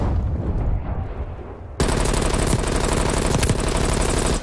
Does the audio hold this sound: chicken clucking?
no